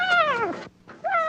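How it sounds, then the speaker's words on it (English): Two loud, close kitten meows follow each other with a short pause between them. The first is long and falling, the second starts rising. Both come from a litter of kittens offered for sale. "Want to buy these kittens?"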